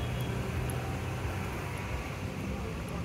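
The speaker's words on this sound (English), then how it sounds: "The traffic is tense." Busy city street traffic in Mengo, old Kampala, Uganda, a steady loud roar of engines and road noise close by, continuous throughout with no single vehicle standing out.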